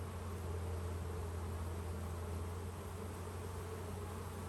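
Honey bees buzz around a hive frame drawn out from a starter strip, a faint, continuous, even drone of many insects with no talk.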